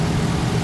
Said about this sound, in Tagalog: So ito, kaka cold start natin